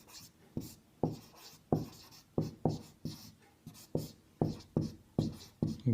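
Pen strokes on paper in a Class 10 maths exam solution, a steady run of about a dozen short scratchy bursts at an even pace, close and fairly quiet, with no talk over them.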